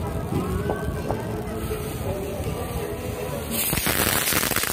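Fireworks or firecrackers bursting close by, with crackling and popping bangs over busy background noise, building to a louder burst of sharp cracks near the end.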